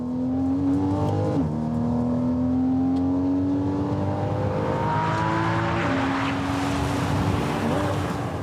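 A car accelerates hard on a track during a passenger ride, its engine climbing steadily through the gears with short shift breaks, loud and steady from inside the car, with some talk underneath.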